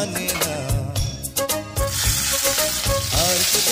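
Prawns coated in turmeric sauté in a hot pan, a dense, loud sizzle with busy stirring clatter throughout, close up and without speech.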